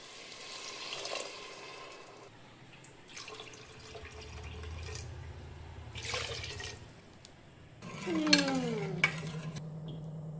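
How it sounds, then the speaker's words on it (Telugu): Water splashes from a tap into a cooking pot being filled for basmati rice, with scattered kitchen clatter and a final louder pour whose pitch rises as the vessel fills. "బాస్మతి బియ్యానికి కొంచెం తగ్గనట్టు వాటర్ పోసుకోవాలి"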